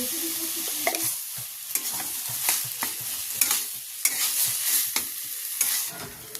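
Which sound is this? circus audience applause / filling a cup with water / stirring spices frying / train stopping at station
stirring spices frying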